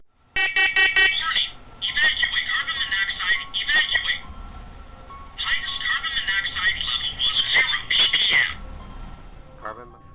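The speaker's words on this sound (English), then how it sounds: "the faulty smoke alarm" A faulty household smoke alarm goes off on its own, repeating loud, shrill piercing beeps in bursts with brief pauses, dominating the room.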